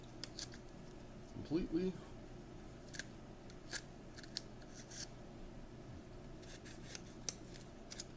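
Scissors snip off the corner of a piece of craft material for a Doom Guy model bridge, with a few quiet close cuts and rubbing sounds, and a voice speaking briefly.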